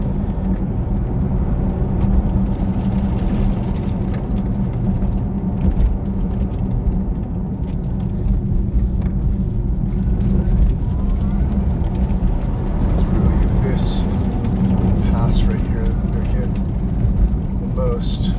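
Tesla Model S Plaid in Track Mode pulling hard from a launch, a steady low road and motor drone with tyre roar filling the cabin at constant loudness, a voice speaking over it now and then.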